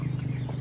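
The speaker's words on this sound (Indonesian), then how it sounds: "Di sini ada beberapa ekor ayam atau 2 ekor aja kayaknya." Chickens on a small duck farm, a pair of birds clucking in low, steady murmurs that run continuously and close by, with no speech.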